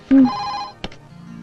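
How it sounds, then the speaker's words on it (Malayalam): A telephone rings once in a short, bright burst indoors, followed by a faint click and a quiet room tone, with no speech. "റാണി ഫോൺ എടുക്ക"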